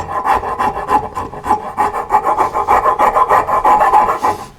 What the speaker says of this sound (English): And then with a file and a rasp, we'll